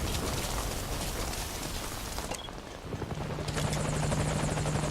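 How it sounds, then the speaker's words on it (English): A helicopter's rotor roar in the video game Metal Gear Solid V: Ground Zeroes, during a night mission, fills the air, loud and continuous, with a brief dip before a steady whine and hum take over as it draws near. "it sounds like our helicopter is on the way."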